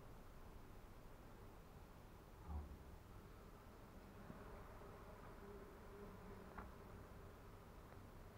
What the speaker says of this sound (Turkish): Bu sineklerden geçilmez buraya.